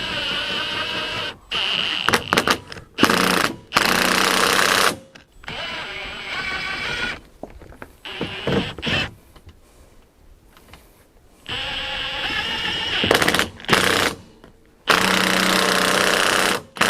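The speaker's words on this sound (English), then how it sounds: "get out the 15mm impact gun" A 15mm impact gun working on a RZR sway bar bracket repair: repeated loud, rattling bursts of a few seconds each, separated by pauses, close up with shop noise between.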